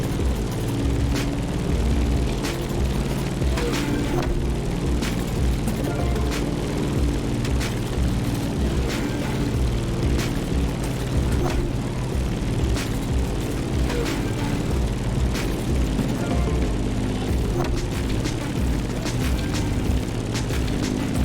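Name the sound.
propeller airplane flying in video game The Crew Motorfest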